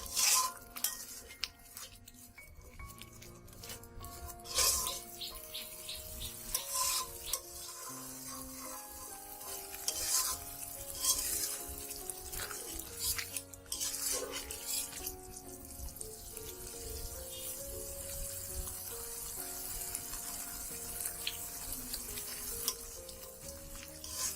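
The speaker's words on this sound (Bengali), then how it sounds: "নাড়তে থাকবেন, তা না হলে তলায় লেগে যাবে এবং ধরে যাবে" Taro curry stirred in a pan, a steady sizzle with repeated scraping and clinking strokes running throughout, fairly close and moderately loud with no talk.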